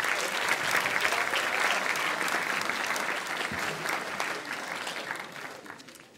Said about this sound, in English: A round of applause for Marcelo.